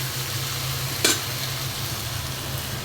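Chicken is stir-fried in oil over a full gas flame, giving a steady close sizzle with one brief stirring scrape.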